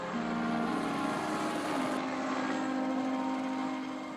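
A helicopter flies over the Alps, its engine and rotor making a steady droning hum with a sustained tonal whine, moderately distant and constant, fading slightly at the end.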